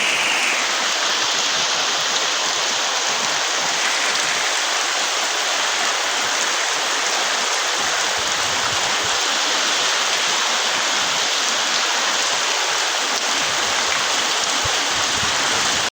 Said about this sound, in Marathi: बघा वारा पण आहे आणि पाऊस पण आहे